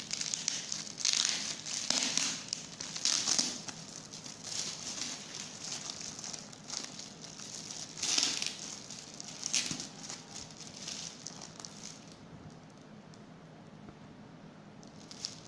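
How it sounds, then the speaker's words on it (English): A cardboard box holding a Canon EOS 1300D DSLR camera is being opened. It is sealed with lots of cello tape, and the tape gives off close, uneven crinkling and peeling crackles with sharper bursts throughout. "Let's open it. There are lots of cello tapes in this box."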